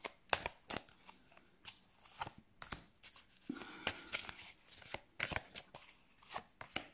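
Oracle message cards being shuffled and drawn by hand, a steady run of close, soft riffling and slapping card sounds with short quiet gaps, no talking.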